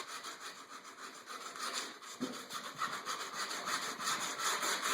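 Hand sanding on a painted wooden chair to distress the finish gives a close, rhythmic scratchy rubbing of sandpaper on wood, steady back-and-forth strokes with no talking.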